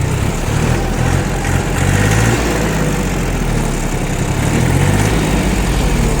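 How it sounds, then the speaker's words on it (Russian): A Yanmar F18D 18 hp four-wheel-drive Japanese small tractor engine runs loudly up close, a rough steady drone with slight swells as it revs, and no talking. "обороты трактор набирает отлично"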